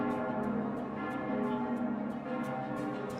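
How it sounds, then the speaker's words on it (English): Bells chime in the video game Fate/Grand Order, a soft, steady ringing tone with light, evenly spaced strikes. It sounds faint and fairly distant. "I hear bells ringing."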